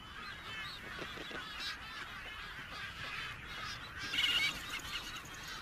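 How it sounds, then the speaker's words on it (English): A dense seabird breeding colony of boobies and frigatebirds on a barren island gives off a steady chorus of overlapping honking calls, distant and faint, rising briefly louder near the end. "Every year, thousands of boobies and frigates fight for living room in the island's barren central depression."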